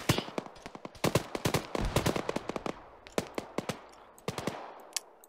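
Bursts of automatic and single-shot gunfire from Arma 3 ring out over about five seconds, irregular rapid volleys with sharp cracks and echoing tails, some near and some more distant, with no talking.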